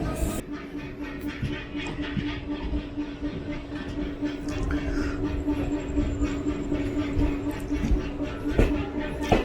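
Alappuzha Kannur Executive Express rolling into Shoranur station past the yard, a steady loud rumble of wheels and carriages with faint rail clatter and a brief squeal, no talk.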